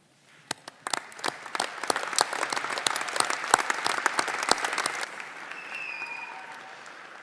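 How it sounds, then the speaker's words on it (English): Audience applause at a university graduation ceremony, with sharp individual claps building into steady clapping that stops abruptly, leaving faint room noise and a few quiet tones. "join me in a round of applause"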